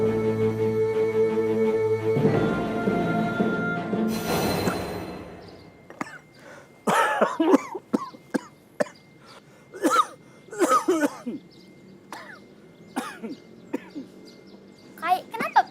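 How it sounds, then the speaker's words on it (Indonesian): An elderly man coughs in a series of sharp, irregular bursts with pauses between them, following music that fades out, fairly close and clear. "kenapa pian batuk?"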